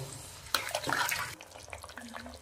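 Water splashes into a curry pan of cabbage and spiced masala in a short burst, a bright gushing pour lasting under a second, followed by lighter bubbling and settling.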